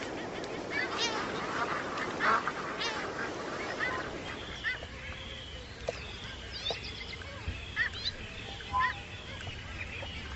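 Seabirds on the Alaskan coast call in a noisy chorus of honking, quacking cries, scattered and overlapping at middle distance over a steady outdoor wash.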